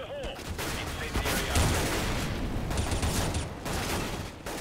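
Rapid gunfire fills a Counter-Strike match on the de_cache map, bursts and single shots overlapping densely and loudly throughout, with faint voices and game effects mixed underneath.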